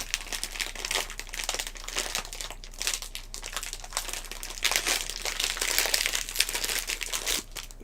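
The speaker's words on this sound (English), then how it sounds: "Now, let's see if that resealable thing actually works." Plastic Twizzlers Pull 'n Peel package being pressed shut along its resealable strip: continuous close crinkling and crackling of thin plastic wrap, steady and busy throughout.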